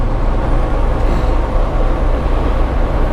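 A 2018 Peterbilt 389 truck with an 18-speed transmission shifts into ninth low gear while driving, with a loud, steady, rumbling engine and road drone filling the cab throughout.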